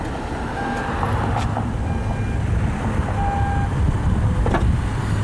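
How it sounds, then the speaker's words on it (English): Steady electronic beeps from a BMW X3 M40i power tailgate as it closes, over a constant outdoor engine and traffic rumble, the tones evenly spaced and fairly clear. "It'll start beeping and it'll actually close the trunk for you."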